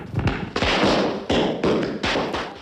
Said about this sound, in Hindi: कुछ आतिशबाजी निकालकर छोड़ी।